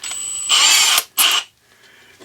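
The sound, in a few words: power drill drilling with a Milwaukee drill bit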